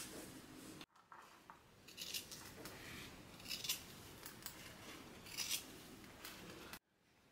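Scissors cutting through fabric at a sewing project, a run of crisp snipping strokes in uneven rhythm, close but quiet, between brief pauses.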